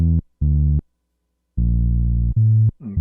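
A Roland MC909 groovebox plays back recorded MIDI as a few clean, pure electronic tones: a short note, a longer pause, then a sustained note and a brighter stab ending with a brief chirp.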